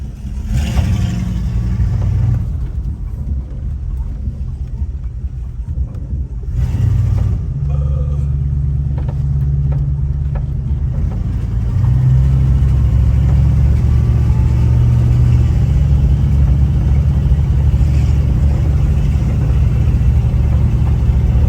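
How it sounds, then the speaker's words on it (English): A 1972 Ford Ranchero 500 V8 rumbles loud and close while driving, its low engine drone shifting in pitch as it accelerates and changes gear, steady for the whole stretch with no talk. "So let's put it in drive."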